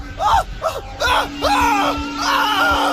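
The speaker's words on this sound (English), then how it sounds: "Why is he screaming like that?" A man screams and yells in repeated loud, strained bursts over about three seconds, heard close up, with a steady hum running underneath.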